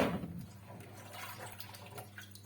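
Jerusalem artichokes being rinsed under running tap water for a cold salad: a steady, fairly quiet stream of water splashing into a sink, with no talk.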